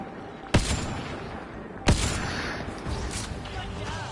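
Two sharp gunshots in the shooter game Mass Effect: Andromeda, spaced over a second apart, loud and close, each followed by a ringing tail over a steady low game background.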